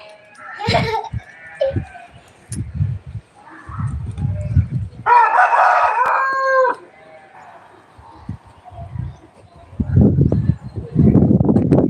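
A fighting rooster (cock) crows loudly nearby, a drawn-out crow in the middle of the clip, with clucks and shorter calls around it and people talking in between.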